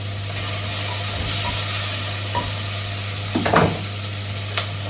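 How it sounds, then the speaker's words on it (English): Steady sizzling of one big onion and two garlic cloves frying in olive oil in a pan, with a constant low hum and a few brief scraping stirs, no voices. "I'm frying up one big onion and 2 garlic cloves, first of all, and a bit of olive oil here"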